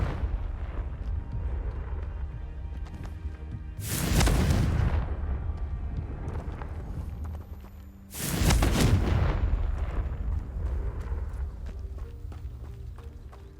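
Two loud, close, booming blasts from a Confringo explosion spell in a Hogwarts video game, each with a rough roaring burst and a rumbling tail, spaced about four seconds apart over a low game background.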